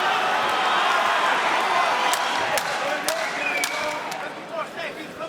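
At a Cage Warriors MMA event in Glasgow, a crowd roars loudly in support of fighter Igor Wojtas as he works from the ground, the noise easing slightly toward the end with sharp thumps of strikes and commentary talk over it.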